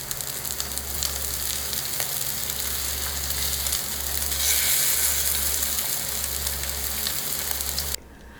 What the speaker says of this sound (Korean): 이대로 약불로 예열한 팬에 올려서 구워줍니다.